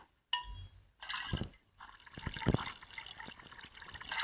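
Water sloshes and splashes in a cooking pot in a Toca cooking game, with a few bursts of stirring and pouring and then a continuous wet swirl, loud and near.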